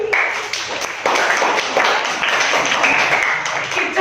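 A group at a school presentation on reducing plastic waste claps on cue, steady rhythmic hand clapping with sharp taps throughout, fairly close and loud.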